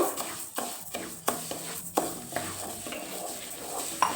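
Rice and lentils are dry roasted in a pan for pongal: a spatula scrapes and stirs the grains in repeated strokes, with soft rustling and faint sizzle between, close and without talk.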